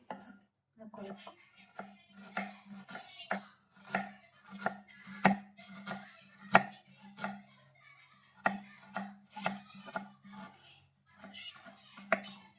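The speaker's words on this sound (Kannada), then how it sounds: "ಈರುಳ್ಳಿ ಹಚ್ಕೊಂಡು ಸಣ್ಣ ಸಣ್ಣಗೆ ಹಾಕ್ಕೊಬೇಕು." A knife chops onion finely on a board, making a steady run of sharp, close taps at a quick, even rhythm with short pauses and little else around it.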